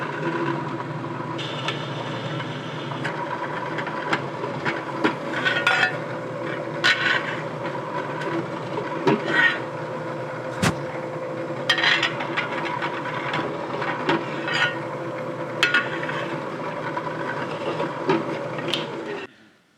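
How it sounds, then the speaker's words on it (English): Continuous machine whirring of a drill working metal while drilling and tapping holes in a bicycle handlebar fixture, steady and close, with scattered clicks and sharp taps throughout, ending abruptly. "We have to drill and tap those holes."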